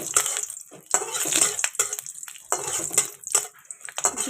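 Whole cinnamon, cardamom and bay leaves are stirred in hot white oil in a pan, with a spoon scraping and clinking in repeated bursts over a faint sizzle.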